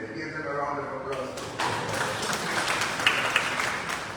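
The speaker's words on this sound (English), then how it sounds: "Give them a round of applause." An audience at the Council on Ageing annual general meeting applauds, a steady wash of clapping that starts partway in and continues to the end, with scattered sharper claps.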